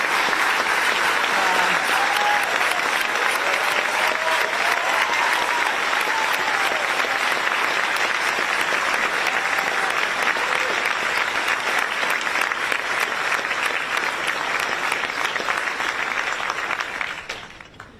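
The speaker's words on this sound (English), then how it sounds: "Could you please stand so we could give you all a round of applause" An audience at an award ceremony gives elected officials a long, sustained round of applause, dense and steady throughout before fading out at the end.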